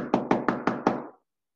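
Five evenly spaced knocks on a door, sharp and close, in a quick steady rhythm lasting about a second before silence.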